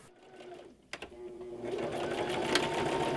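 A sewing machine stitching the top corner of a stuffed Baby Yoda toy: after a brief quiet moment and a click, the motor starts and runs in a steady, close whir.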